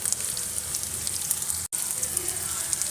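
Onions and curry leaves sauté in a pan for roadside-style masala sundal, giving a steady, close, dense sizzle that runs throughout with one very brief dropout.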